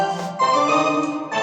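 A short burst of a built-in demo song plays from a small keyboard speaker, sustained tones with a slightly boxy, close sound and no talking.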